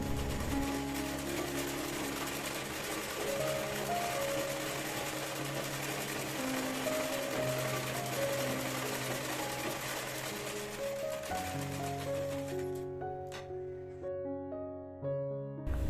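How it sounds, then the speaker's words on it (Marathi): A sewing machine stitches a katori blouse, running in a steady continuous whir for most of the stretch before slowing near the end, with background music playing over it. "इथे आता मी स्टिच करून घेते"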